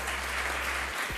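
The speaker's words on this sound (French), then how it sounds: "sous vos applaudissements" A studio audience on a French campus television programme applauds the guests on set, a brief burst of steady, full clapping.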